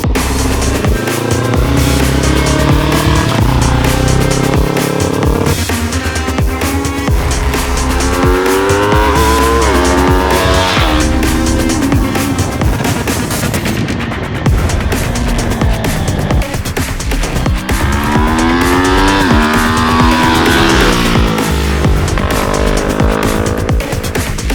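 Small sport motorcycles, an Aprilia 457 and a Yamaha R3, rev hard and climb through the gears on a track, loud and continuous, with rising and falling engine whine as each gear is pulled.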